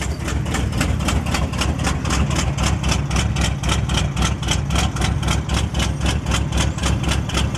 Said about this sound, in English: the exhaust, of course, is kind of messed up, so it sounds pretty mean